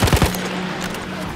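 Rapid machine gun bursts in the World War I shooter Battlefield 1, a quick string of sharp close shots at the start fading into a rumbling tail and low background din.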